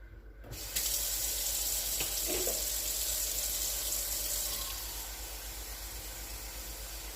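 A faucet runs steadily, hot water splashing into a cup with a constant hiss, fairly quiet and close, with no one speaking.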